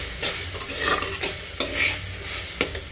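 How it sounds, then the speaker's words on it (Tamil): Radish greens stir-frying in a hot pan as they are stirred: soft sizzling under a series of scraping, clattering spatula strokes that come at irregular intervals, close and fairly loud, with no voices. "நல்லா கிண்டி விடுங்க"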